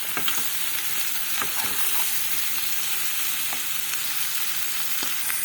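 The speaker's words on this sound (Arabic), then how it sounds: "وهقلبها كويس قوي كلها مع بعض" Chicken liver and gizzards stirred in a hot pan with spices and hot and black pepper, a loud continuous sizzle with occasional scraping strokes, close and without speech.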